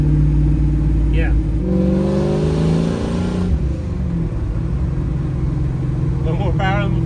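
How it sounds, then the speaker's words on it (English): Supercharged 1968 Camaro engine, with a loud intake, rising in revs and then settling back over a steady idle. It is heard close by, and a voice speaks alongside it. "Notice how much louder the intake is?"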